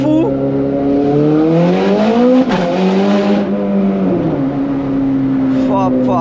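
Ferrari sports car engine droning steadily at around 60 km/h, its harmonic tone rising and falling with the throttle, with a brief surge midway, loud and close from inside the car, with talk over it.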